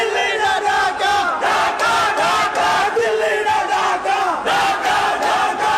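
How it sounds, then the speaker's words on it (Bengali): A large cricket crowd at an under-19 Bangladesh versus India match chants slogans loudly in unison, a dense roaring mass of voices rising and falling in repeated rhythmic phrases throughout. "এবং স্লোগান দেওয়া হচ্ছিল দিল্লি না ঢাকা, অনেকে জোরে জোরে বলছিল ঢাকা ঢাকা।"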